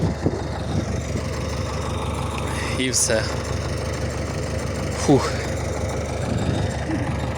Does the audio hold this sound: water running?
no